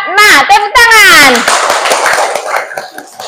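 A classroom of pupils clapping for a group of classmates, brief rhythmic claps mixed with children's voices calling out and a teacher talking over the noise.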